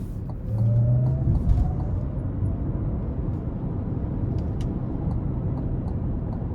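A 2023 Cadillac Lyriq Luxury electric SUV accelerates hard in sport mode: a steady, loud low road and cabin rumble carries a faint electric whine that climbs in pitch early on. Nobody talks.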